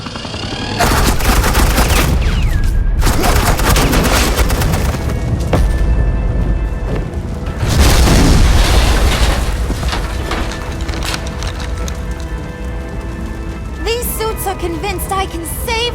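Rapid gunfire bursts and booming explosions from the video game Batman: The Enemy Within, sustained and loud across the scene with a heavy impact near the middle, mixed with game soundtrack.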